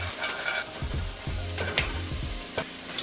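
Frozen vegetables sizzle and crackle in a preheated frying pan with no oil, with steady frying hiss and a few stirring scrapes and knocks, close and alone without talk.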